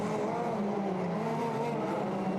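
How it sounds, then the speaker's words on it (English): Formula Renault 2.0 single-seater race cars roll toward the grid at Silverstone, a steady close engine drone with layered buzzing harmonics and no break across the short stretch. "So the cars now head up towards the grid."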